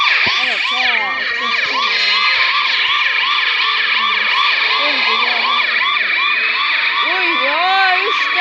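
Several police car sirens, three police BMWs, wailing and yelping loudly and continuously nearby with overlapping rising and falling tones.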